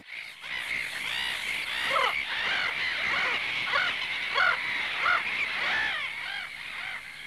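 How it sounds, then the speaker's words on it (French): A noisy flock of crows caws constantly, overlapping harsh calls piling up loud and close for several seconds with no talking. "Ces oiseaux font autant de bruit que les hommes au restaurant"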